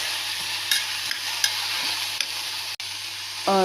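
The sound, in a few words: stirring vegetable pieces together in a pot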